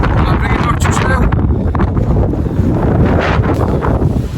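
Strong, gusty wind buffets the microphone on an exposed hilltop above High Cup Nick on the Pennine Way, a loud continuous roar with no speech.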